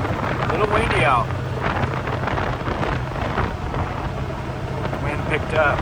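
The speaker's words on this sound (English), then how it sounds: "Wind picked up." Wind gusts at a ranch rumble and buffet against the microphone continuously, with a voice speaking briefly at moments.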